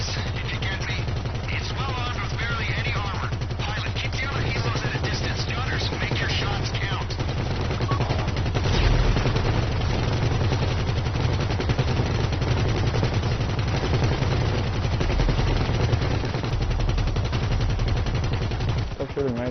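Helicopter gunners fire mounted guns in the GTA 5 video game, a dense continuous rattle of automatic fire over rotor noise, with voices talking now and then.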